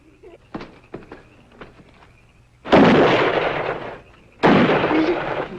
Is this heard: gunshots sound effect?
yes